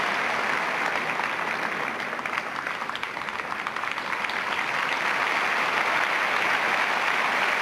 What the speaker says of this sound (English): the crowd here are giving her a tremendous amount of support